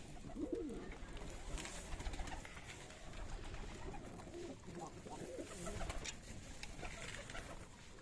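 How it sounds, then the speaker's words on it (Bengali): Pigeons in a loft coo softly amid rustling and fluttering as they are fed wheat, with a faint voice in the background and a constant low hum throughout. "কবুতরগুলো খাওয়ার জন্য ছটপট করছে"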